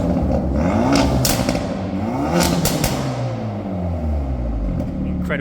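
A Hyundai i30N Performance hatchback, 272 bhp, with its exhaust GPF removed, revved in normal mode; a loud engine held steady under repeated sharp throttle blips that rise and fall, close by, with a little crackle.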